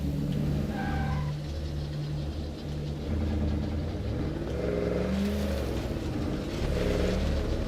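A car is driven in the zombie survival video game State of Decay 2, its engine humming and revving steadily with rising and falling pitch over several seconds, with no talking.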